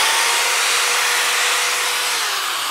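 Craftsman 7 amp corded drill spinning with the trigger held, a loud close whirring hiss of motor and fan, steady with a slight pitch drift near the end.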